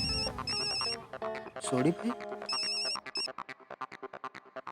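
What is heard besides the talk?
phone ringtone of an outgoing call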